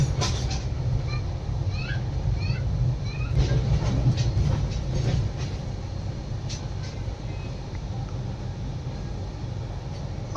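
Inside a Mumbai first class AC local train, a steady, loud low rumble runs throughout, with faint squeaks and clatter on top and no clear voices.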